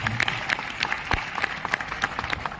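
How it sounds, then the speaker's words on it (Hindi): An audience in an auditorium claps and applauds steadily, a dense patter of hands with a few sharper claps standing out, sounding moderately distant. "इसके लिए जोरदार तालियां।"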